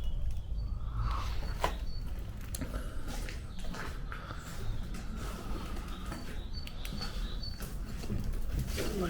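Pigeons in an abandoned chalk quarry works, soft cooing and bursts of wing flapping with scattered chirps over a rough ambient rumble, fairly close and ongoing.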